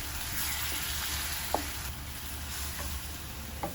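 Shakshuka simmers and sizzles in a pan over lowered heat, a steady close frying hiss with a few faint clinks of a utensil against the pan.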